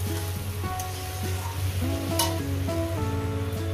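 Ridge gourd frying in a pan over a medium gas flame, giving a steady soft sizzle throughout, with a few faint tonal clinks and pings over it and no talk.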